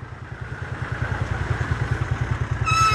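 A tractor towing a trolley loaded with concrete idles at a road-shoulder construction site, its diesel engine thumping in a steady fast low pulse close by, with a brief higher whine near the end.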